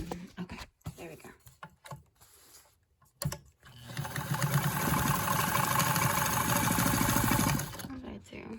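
Vintage Super zigzag sewing machine running steadily for about four seconds, a loud continuous mechanical whir with rapid stitching rhythm, preceded by handling clatter and brief fumbling noises.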